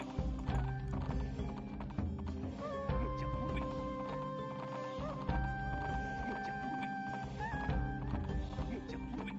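Horse hooves clip-clop in the video game Dragon Throne, a steady run of hoof knocks under game music with sustained tones, and a voice talks at times over them.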